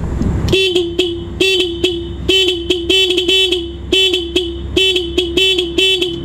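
Nhay Pro music horn wired onto a motorcycle plays a loud, close melody of rhythmic honking toots, repeated tonal blasts in a bouncy pattern over a low idling hum.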